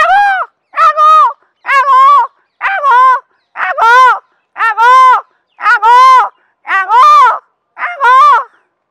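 A voice mimics a peacock calling as it circles on guard, a rapid string of about ten short, loud, nasal honking cries in a steady rhythm, each clipped off by silence.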